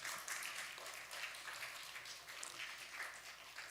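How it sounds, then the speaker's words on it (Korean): Church congregation applauding graduates at a Sunday worship service, a steady, moderately loud wash of clapping that lasts a few seconds with no talk over it. "큰 박수로 환영해 주십시오"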